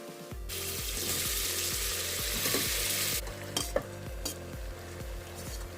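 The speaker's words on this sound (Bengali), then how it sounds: "ভালো মতো কষিয়ে নেবেন যাতে কাঁচা গন্ধ কিছু না থাকে" Spices and chicken sautéing in a pan for a pressure-cooker chicken curry. A loud broadband sizzling hiss sits over a low, rhythmic pulsing hum, followed by a few clicks and scrapes of stirring, without speech.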